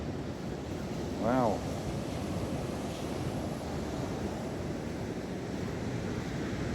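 Ocean waves wash steadily onto the Benajaraf beach near Campomar in a broad, rushing surf roar mixed with wind noise on the microphone. A person briefly exclaims over it.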